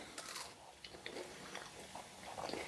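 Quiet crunching bites into homemade beer bread with a crisp, salty, buttery crust, with several close, faint crackles of chewing and no talking.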